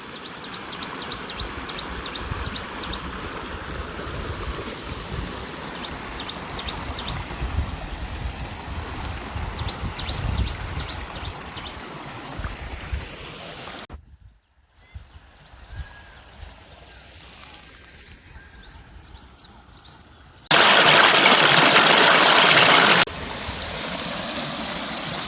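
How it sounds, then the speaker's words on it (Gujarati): Stream water flowing in a hilly area, a steady rushing wash with birdsong chirps above it, dropping away midway, then returning with a brief burst of loud broadband noise. "ને તમે જો અહીંયા પાણીનો અવાજ આવે કેવું આમ અવાજ આવે."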